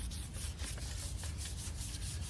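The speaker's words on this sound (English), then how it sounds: "Okay, so we're just going to kind of sand it down a little bit." Light hand sanding of a painted Star Wars patio set, a close steady series of soft rhythmic rubbing strokes with a dry scratchy texture and no talking.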